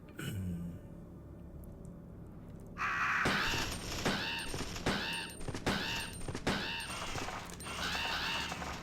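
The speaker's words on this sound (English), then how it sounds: "Come on, you stinking birds!" Crows caw repeatedly in a Resident Evil 2 game scene, loud and close, in a rapid series of harsh calls that follow a quieter stretch of ambient game noise.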